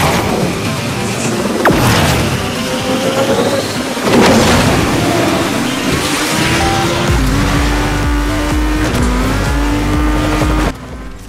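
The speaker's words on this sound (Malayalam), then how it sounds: "ഇനി നമുക്ക് Asphalt 9 എന്ന റേസിംഗ് ഗെയിം ഒന്ന് Redmi 9 Prime കളിച്ച് നോക്കാം" Racing cars roar loudly through a match of Asphalt 9 on a Redmi 9 Prime phone, with engine pitch rising and shifting, bursts of tire squeal and skidding, and a sudden drop near the end.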